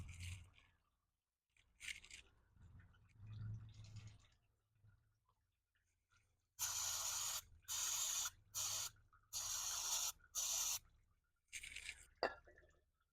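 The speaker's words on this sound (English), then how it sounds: "a can of brake cleaner" Brake cleaner sprays from an aerosol can while servicing a ZB Commodore: after quiet shuffling and handling noises, about five sharp, hissing bursts follow one another in quick succession, close and loud.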